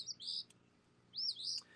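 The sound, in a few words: wild birds chirping in a country yard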